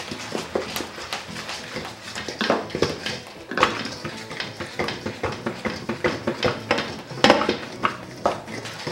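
Milk, oil and vanilla are stirred by hand in a mixing bowl with the beaters of a switched-off mixer, making quick, irregular clinks and scrapes that tap out a fairly steady rhythm, close and moderately loud.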